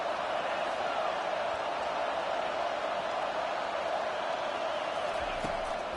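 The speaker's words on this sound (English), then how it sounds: "Decibels rising as the crowd gets behind this defense on 3rd down." Stadium crowd roar in the NCAA 25 college football video game on a third-down defensive stand, a steady, dense wall of noise held throughout with no individual voices standing out.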